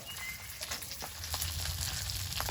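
Capsicum and onion chunks sizzle and fry steadily in a hot pan with whole cardamom, cinnamon and cloves for chilli chicken, a close, continuous crackle with a few brief stirring clicks.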